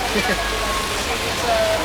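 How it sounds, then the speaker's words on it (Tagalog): Steady, broadband downpour hiss fills the whole stretch, loud and close, like heavy rain pounding nearby surfaces with no clear breaks. "Dito kami ng malakas na ulan."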